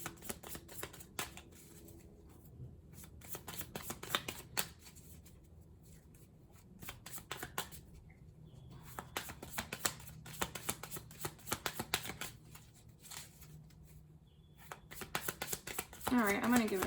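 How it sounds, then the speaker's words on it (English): Soft, continuous riffling and rubbing of tarot cards being shuffled, close by, with a few brief pauses and a louder flutter near the end. "I'm going to give it a shuffle real quick."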